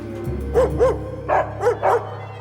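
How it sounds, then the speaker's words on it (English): Dogs bark outdoors in five sharp, loud barks, two quick ones, then three more spaced evenly, over a low steady background hum. "Dogs start barking."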